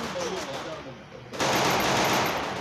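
Rapid bursts of automatic gunfire from the battle royale game Garena Free Fire, fairly quiet at first, then a louder, denser stretch of shooting.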